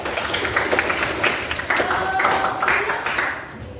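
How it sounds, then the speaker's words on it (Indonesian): Audience members clap for presenters in a classroom or hall, an uneven patter of hands overlapping with talking voices for a few seconds. "tepuk tangan buat mereka"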